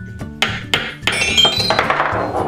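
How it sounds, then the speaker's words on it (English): Several sharp plastic taps of a toy hammer pounding a ball through a hole, then a bright tinkling jingle of a toy chime ringing on, close and clear. "Let's hammer red."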